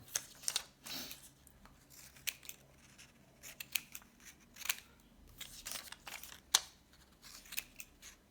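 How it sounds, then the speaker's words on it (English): Scissors snipping through paper while cutting out paper strawberries and oranges, with repeated close, crisp cuts and light rustling of the sheets. "I'm gonna cut out all my strawberries and all my oranges."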